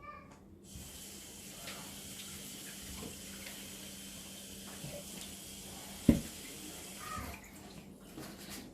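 Water pours and trickles steadily into homemade Tunisian fricassé dough, a soft continuous running hiss close by with a single sharp knock partway through.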